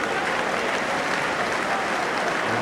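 A small crowd at a football match in Swansea, Wales against Norway, claps steadily in a dense, even wash of applause heard from a distance.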